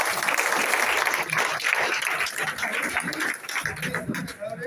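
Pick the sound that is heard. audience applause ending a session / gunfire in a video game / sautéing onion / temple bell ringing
audience applause ending a session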